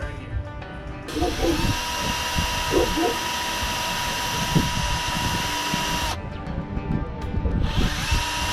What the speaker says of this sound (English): Make sure I'm drilling in the right spot.